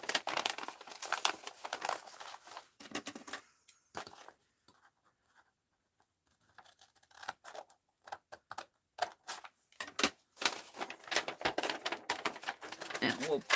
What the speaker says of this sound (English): And we'll fold it into a zine.